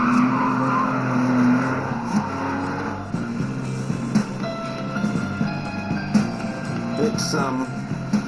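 Car driven hard around corners with tires skidding and squealing, engine droning steadily throughout with short squeal bursts, a voice talking over it at times.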